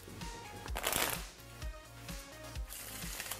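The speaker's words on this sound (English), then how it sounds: "Shuffle them up for me if you don't mind. Give them a good little mix." A deck of playing cards is shuffled by hand beside a pool table, with a few soft riffling bursts and taps, quiet and close, with no talk.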